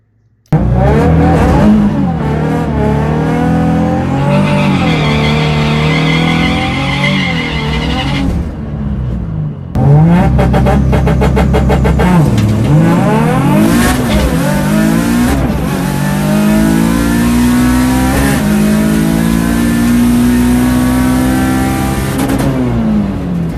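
A turbocharged car with a larger exhaust-side turbo housing accelerates hard, loud and close, its engine climbing through gears with rising pitch, a brief cut near the middle, then another long pull with tire noise.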